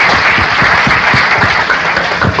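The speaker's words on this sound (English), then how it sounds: "if we could just give a round of applause for the District 2 candidate" An audience at a candidate forum gives a round of applause for a District 2 candidate. The clapping is dense and loud, fills the whole moment, and has no talk over it.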